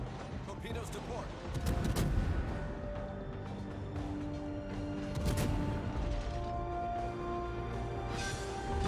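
Naval gunfire booms in a warship battle game: two heavy salvos roll out over a continuous engine and sea rumble, with a voice talking underneath.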